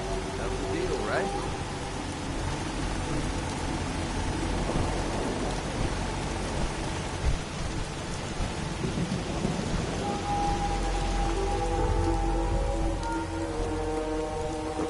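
Rain pours steadily with rolling thunder in the post-apocalyptic world of the video game Fallout 4, a constant wash of rainfall with low rumbles and a sharp crack, while muffled voices and a tonal hum sit faintly underneath.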